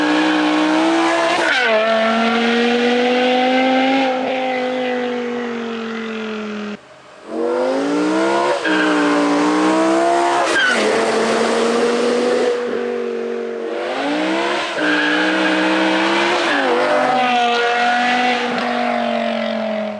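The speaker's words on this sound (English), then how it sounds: "I know the M5 sounds amazing and all" A BMW E60 M5 engine howls while driving, loud and close, rising and falling through revs with gear-change dips and long sustained wails, no talking.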